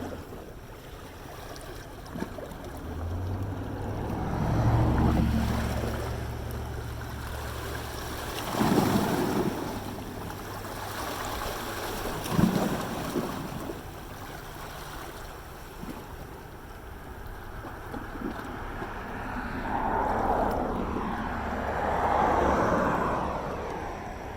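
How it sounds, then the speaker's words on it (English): Ocean waves heard from aboard a ferry, a soft broad wash of water and wind rising and falling in slow swells, with a low engine rumble beneath and no talking. "I'm going to end it with the waves from the ferry."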